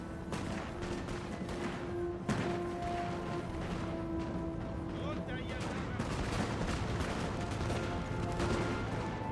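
Musket volleys crackle in ragged bursts across a Napoleon: Total War battlefield, dense scattered shots with a heavier report, faint and continuous under a murky mix.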